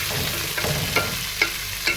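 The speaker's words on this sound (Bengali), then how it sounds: "আমি চিংড়ি মাছ আর কাঁচামরিচ একসাথে দিয়ে দিচ্ছি।" Shrimp and green chillies hitting a hot frying pan: a constant close sizzle with three short scraping stirs rising out of it at regular intervals, no talking.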